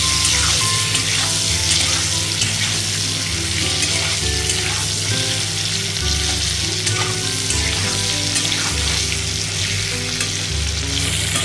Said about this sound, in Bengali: একই তেলে আলুগুলো ফ্রাই করে নেব।